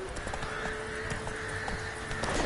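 Geralt's horse Roach walking in The Witcher 3, soft, steady hoof clops repeating at an even pace beneath a constant ambient drone.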